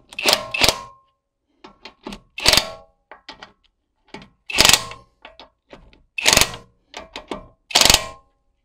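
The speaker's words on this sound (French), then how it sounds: "je vais mettre un coup de clé avec le couple minimum" A Popoman impact wrench tightens a nut at minimum torque in about six short, loud, rattling mechanical bursts, with lighter clicks in the gaps between them, heard up close with no speech.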